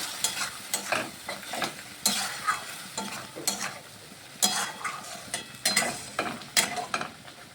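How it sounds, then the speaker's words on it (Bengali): Banana blossom curry being stirred after sambar powder and mustard go in, rhythmic scraping strokes of a spoon against the pan repeating every half second or so over a soft, low sizzle. "অল্প একটু সাম্বার অ্যাড করছি ভালোভাবে মিশিয়ে নিচ্ছি"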